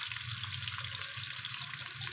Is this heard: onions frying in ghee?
yes